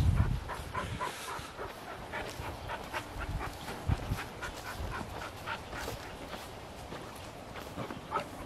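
Dog sounds and soft whimpers near a running tap and water in a backyard, brief yelps scattered over steady background noise, with someone talking now and then.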